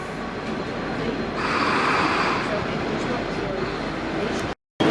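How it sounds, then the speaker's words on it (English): V/Line N-class locomotive N462 hauling FN04 carriage sets departing a station platform, a steady loud rumble and rolling rail noise that swells midway and then holds, with no talk over it. "Long train, N462, FN04 car sets, departing platform 2A."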